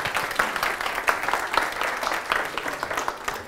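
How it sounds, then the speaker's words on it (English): Audience applause at a conference talk, a moderately sized crowd clapping steadily and fairly faintly for a few seconds, without speech. "A great round of applause for Agata."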